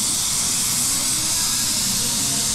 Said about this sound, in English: you do have to be careful with this polyester spray filler